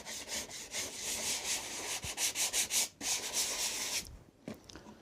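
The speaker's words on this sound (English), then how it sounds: "very gently rub it down level" Close, rhythmic hand sanding rubs veneer stringing level on a wooden surface, a run of steady back-and-forth strokes that pauses briefly, then gives a few lighter final rubs.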